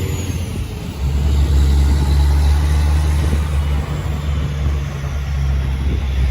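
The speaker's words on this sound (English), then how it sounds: "holy crap, this truck is loud" Loud truck engine rumbling at a trucker freedom convoy protest in Ottawa, a deep sustained drone that swells after the first second and stays heavy.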